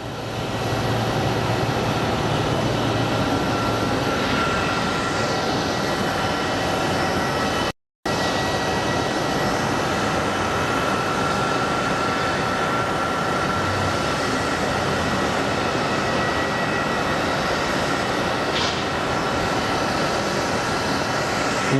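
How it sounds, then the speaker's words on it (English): A United airliner taxis at Phoenix Sky Harbor International Airport, heard as a steady, fairly loud broadband roar that holds throughout with no talking. "And then right over here is where the United is going to taxi,"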